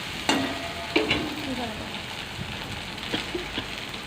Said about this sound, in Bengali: মোটামুটি ভাজা হয়ে আসছে